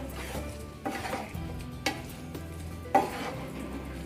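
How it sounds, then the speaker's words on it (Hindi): Mixed vegetables are stirred in a pan with soft scraping strokes and a few sharper knocks of the spoon against the metal, over a faint background sizzle. "तो सब चीज़ों को अच्छे से हम मिक्स कर लेंगे हल्के हल्के हाथ से"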